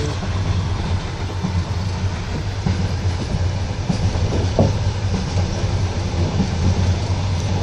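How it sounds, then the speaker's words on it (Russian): Steady rolling rumble of a passenger train on a busy summer line, heard from inside a carriage by the window, with rhythmic clickety-clack of wheels over rail joints running continuously and no talk. "Очень интенсивное движение поездов."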